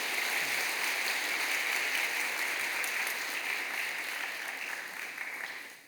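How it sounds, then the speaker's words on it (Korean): A church congregation applauds a newly arrived pastor, with broad, sustained clapping that fills the room evenly for several seconds before fading at the end, and no voices over it. "여러분 크게 박수로 환영하시지요."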